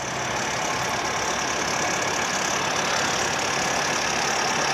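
A 2023 Bobcat T66 R-series compact track loader with a 72-inch bucket idles steadily, a constant near engine drone with no talk over it.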